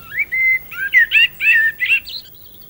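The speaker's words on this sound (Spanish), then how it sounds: "Esta que vemos es una raza del pinzón tintillón, propia de La Gomera" A Gomera subspecies of common chaffinch calls in laurel forest on La Gomera, giving a clear, close series of bright chirps and short whistled phrases with brief gaps between them.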